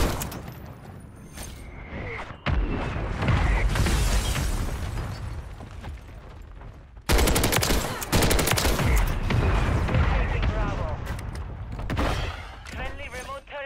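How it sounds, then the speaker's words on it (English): Gunfire bursts and heavy explosions from a mortar strike in the shooter game Modern Warfare III, loud and dense in two long volleys separated by a brief lull, with game voice callouts mixed in. "Friendly mortar strike on the way."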